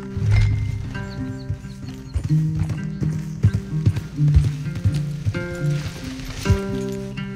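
Hooves clip-clop steadily on hard ground as horses walk in Red Dead Redemption 2, with occasional snorts and a low droning backdrop.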